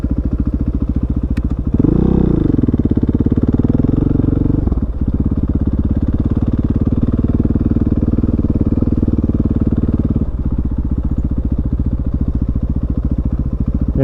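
A motorcycle being ridden by a learner on a dirt trail, a steady close throttled engine chug with a brief rev swell early on and the pitch settling afterwards, no talking.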